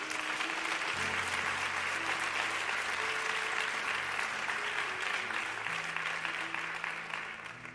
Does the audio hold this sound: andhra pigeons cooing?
no